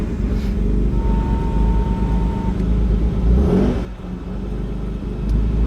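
Scorpio engine swapped into a 1968 Ford Transit van, rumbling steadily and loud up close, with a brief swell of revving and then a short dip before it settles back to a running idle.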